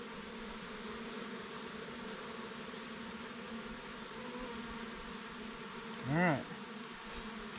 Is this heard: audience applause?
no